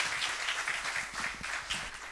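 A forum audience applauds steadily for two seconds, a dense, continuous wash of many hands clapping at once with no voices over it.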